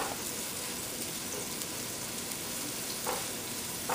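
Onions sizzle steadily in a pan for Chinese rice, a soft continuous frying hiss with a couple of faint clinks near the end and no talking.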